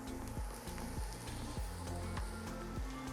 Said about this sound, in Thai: ตอนนี้หอมเริ่มหอมดีแล้วนะครับผมก็จะใส่เห็ดลงไปเลย